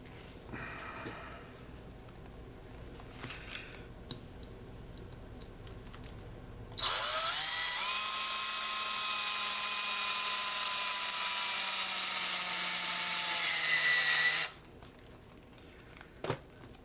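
Power drill running continuously for about eight seconds while a lion mask is being built, a loud whining motor that slowly drops in pitch under load, with quiet handling clicks before and after.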